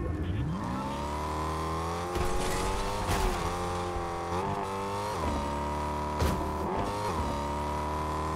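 A car in a Portuguese-language video game pulls away with a steady engine drone that rises as it accelerates, with brief shifts and revs along the way and no voices over it.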